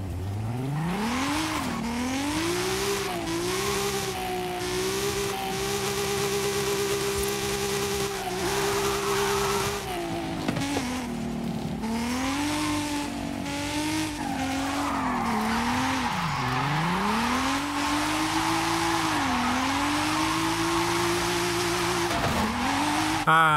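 A Lamborghini Huracán drifts in Forza Horizon 5, its tires squealing in long, wavering howls that rise and fall with engine pitch, loud and continuous, with brief dips and swerves as the car slides through corners.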